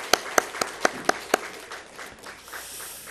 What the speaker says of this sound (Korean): 영광의 박수를 하나님께 드립니다.